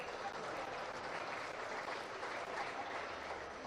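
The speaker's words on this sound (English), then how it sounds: "Let's give these three exhibitors a big round of applause." Steady, dense applause from an audience at a 2024 swine show, honoring three hog exhibitors; a continuous wash of many hands clapping at an even level throughout.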